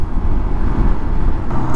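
Night street traffic in Ipoh rolls past as a steady, close, low rumble of cars and engines, with no voices over it.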